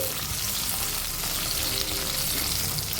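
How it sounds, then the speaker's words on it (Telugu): Eggplant pieces and green chillies frying in hot oil in a pan, a loud continuous sizzle close up with a bright crackling hiss and no voices over it. "వంకాయ ముక్కలు వేసాక ఆయిల్లో ఫ్రై చేసుకోవాలండి"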